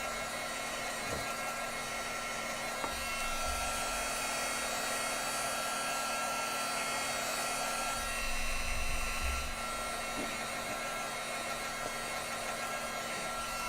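A hair dryer blows on a shaker-tag paper craft to dry it before die cutting, a steady, close whirring drone that runs unbroken from start to finish without speech.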